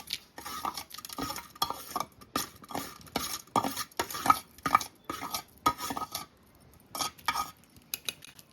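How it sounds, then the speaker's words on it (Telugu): Urad dal and green chillies pounded and ground in a stone mortar for a roti pachadi, with close, repeated rhythmic knocks and scraping strokes that continue in uneven bursts with short pauses. "పప్పుని మిరగాయలు వేసి నూరుకుందాం"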